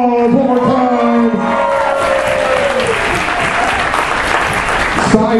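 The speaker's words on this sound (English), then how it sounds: "Let's give a round of applause one more time." Audience at a comic convention costume contest gives a sustained round of applause, loud and continuous clapping with scattered cheers, while a voice speaks briefly over it at the start.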